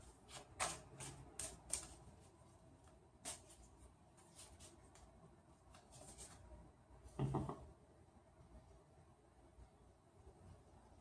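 A deck of tarot cards being shuffled by hand, with several brief papery riffles and flicks close by, including one louder burst, separated by quiet pauses.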